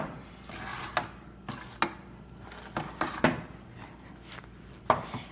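A spoon works through a thick homemade play dough mixture in a bowl, with soft scraping and irregular dull knocks every second or so.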